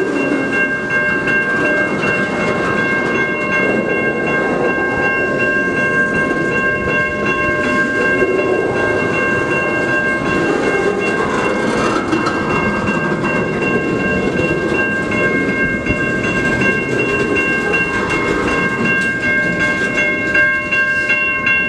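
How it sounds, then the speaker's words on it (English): A stopped CN freight train starts moving and gains speed at the Mill Street railroad crossing in Ecorse, Michigan, with loud, continuous rumbling and wheel noise under steady ringing crossing bells. "It's probably gonna take a little bit for this to clear out. And for the train to gain speed"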